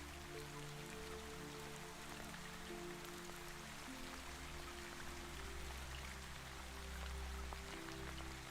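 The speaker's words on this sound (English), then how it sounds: "Rain falls softly beyond the awning, tracing silver lines through the darkness of the lane." Soft rain falls beyond an awning at night, a faint, even patter spread steadily throughout under a low hum.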